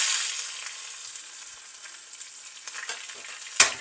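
Mustard seeds, curry leaves, dried red chillies and shallots sizzle in hot tempering oil for a masoor dal curry, a steady crackling fry with a sharp pop near the end.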